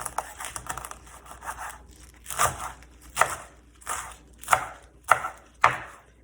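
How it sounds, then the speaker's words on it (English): A knife chops kohlrabi on a board in close, crisp crunching strokes at an irregular pace, getting heavier and more distinct toward the end, with no talking. "I'm just gonna chop it up."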